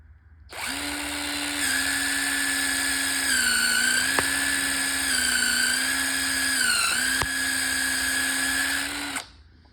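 A cheap step drill bit bores a hole with a steady, loud high-pitched power-drill whine. The whine holds for about nine seconds, its pitch dipping slightly as the load changes, with two faint clicks along the way.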